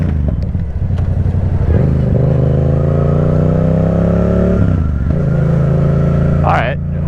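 A Yamaha FZ-07 motorcycle is ridden on the road, its engine droning steadily with rising pitch through the gears, loud and close with wind rumble, and a brief dip and drop around a shift.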